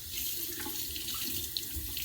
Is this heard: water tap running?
yes